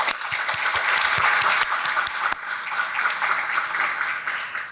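An audience at a morning garden symposium applauds after a poetic invocation, a sustained wash of many hands clapping, strong at first then gradually thinning and fading away.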